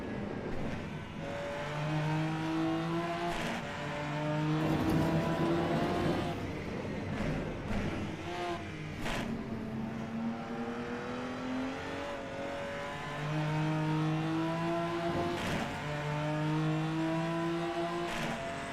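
A video game racing car engine revs up and down in repeated climbing whines, with distinct gear-shift drops between pulls and occasional sharp clicks, no voices.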